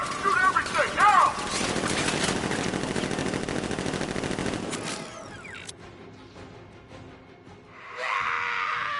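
Rapid bursts of automatic gunfire rattle loudly through the opening seconds of Batman Arkham Knight gameplay, then thin out into quieter scattered shots and ambient noise, with voices talking over the action.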